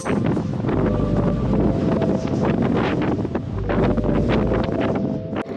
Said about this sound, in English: It's so hard against the wind.